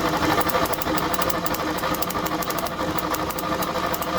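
A 1965 Ford Mustang convertible engine cranking over on the starter during a compression test on cylinder five, a loud continuous rhythmic chugging whir with steady rapid pulses throughout.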